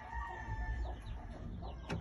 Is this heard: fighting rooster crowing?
yes